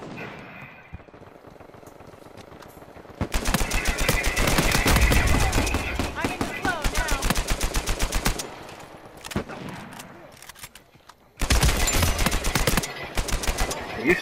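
Multiplayer gunfight in Uncharted 4, with bursts of loud, sharp gunshots and rapid automatic fire coming in dense clusters separated by quieter gaps.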